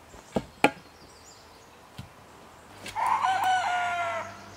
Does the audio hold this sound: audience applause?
no